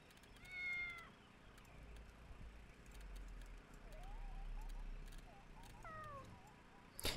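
House cat meowing, with a clear drawn-out meow early, then several shorter, fainter mews and another meow toward the end, over quiet background noise with a brief spoken voice.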